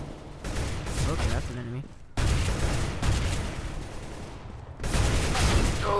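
Rapid bursts of assault shotgun fire in Counter-Strike: Global Offensive crackle in dense volleys with short pauses, while a player speaks briefly over the shooting.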